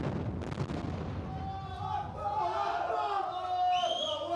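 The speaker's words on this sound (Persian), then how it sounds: "اما امروز آتش زیادی رد و بدل میشه" Gunfire and artillery in the Libyan war: dense, continuous rumbling blasts and cracking shots fill the background, with a voice talking over the din throughout.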